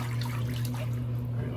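Tap water runs steadily into a sink for rinsing after a wet shave, a constant close hiss with a low hum underneath and no talking.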